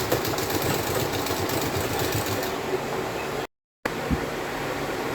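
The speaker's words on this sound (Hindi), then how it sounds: "जहाँ तक हमारा कट था वहाँ तक ही इसको डबल सिलाई करके लॉक करेंगे" A sewing machine runs steadily, double-stitching and locking the pleats on a kurti, with one brief pause in its mechanical hum before it resumes.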